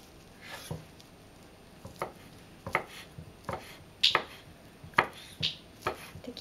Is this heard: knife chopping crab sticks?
yes